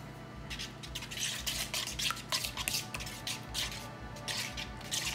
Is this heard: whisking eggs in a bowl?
yes